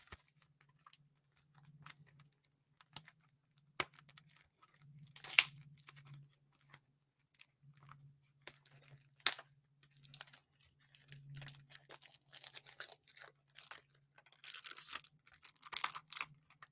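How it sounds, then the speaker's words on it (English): Shrink wrap being torn off a sealed package, heard as quiet, close, intermittent crinkling and sharp tearing bursts over a faint low hum, with long near-silent gaps between. "sexy sexy shrink wrap unsealing"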